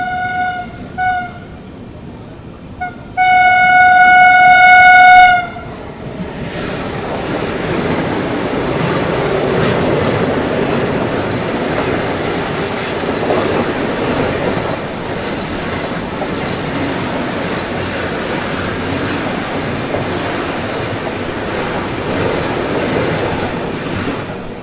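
Vikramshila Superfast Express rolling along the rails with steady wheel rumble and clatter, preceded by a loud multi-tone horn blast as it prepares to cross the Banaras–Agra Cantt Vande Bharat Express; no talk.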